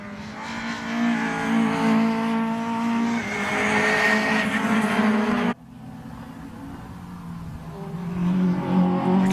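Ford Escort Cosworth race car engines roar past at high revs at Anglesey circuit, one loud pass cutting off abruptly before another engine builds again in the distance.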